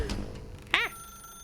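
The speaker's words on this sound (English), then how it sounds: "Pick up the phone, and it will take us back home" A single short electronic telephone ring trills once, clear and bright, within the video game The Stanley Parable, with a faint hum around it.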